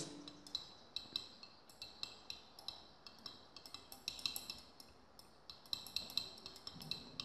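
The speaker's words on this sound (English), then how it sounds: "remember to stir the solution continuously" A glass rod or spoon clinks repeatedly against the sides of a large glass beaker while soap solution is stirred and heated, with light, fairly regular taps at a quiet level and no voices.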